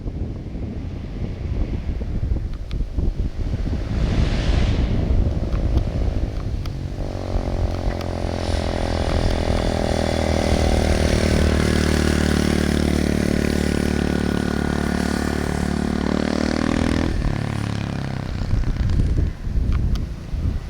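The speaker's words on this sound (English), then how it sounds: "Here he comes. Nate Dogg back on the KLX" A Kawasaki KLX 110L dirt bike rides past, its small engine revving and rising in pitch as it approaches, then dropping away, loud and close amid wind noise on the microphone.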